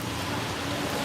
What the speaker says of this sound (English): Even though it's raining, even though it's muggy,